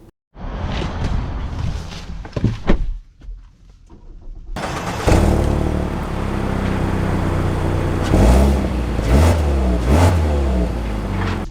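A 2025 Mazda CX-5 Carbon Edition with the non-turbo engine pulls away and drives, its engine note steady and fairly loud from inside the cabin, rising through gears after a brief quieter start.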